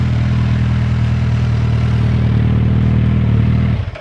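Suzuki Hayabusa superbike engine running close by with a steady, loud, deep drone that holds even throughout, then drops away abruptly at the very end.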